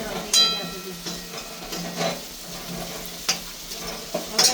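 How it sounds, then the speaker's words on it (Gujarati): Fried Manchurian balls tossed with red chilli in a hot pan, stirred with sharp scraping strokes over a steady sizzle, close and fairly loud, with a few faint background noises. "હવે આપણે આ બોલ છે એ નાખી દઈશું. આમાં સરખી રીતે હલાવી લેશું."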